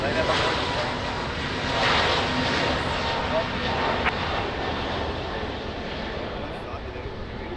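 Airliner engines at Lisbon Airport near the runway, a steady broadband roar that holds loud through the whole stretch with slight swells, a radio voice and talk faintly in the mix.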